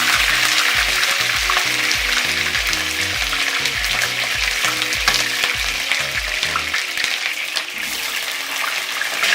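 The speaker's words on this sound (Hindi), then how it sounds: "अब हम इसको फ्राई करेंगे। हमने इसको तेज़ आंच पे पकाना है," Chicken pieces shallow frying in hot oil over high heat, a loud, steady sizzle with crackling that runs throughout, broken by repeated metallic stirring knocks in a regular rhythm.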